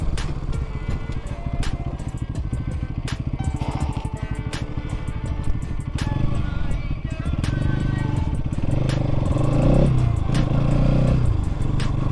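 Bajaj Pulsar NS200 BS7 2023 motorcycle accelerating in third gear, a steady loud engine drone climbing in pitch over twelve seconds, with rhythmic mechanical clatter underneath and no talk.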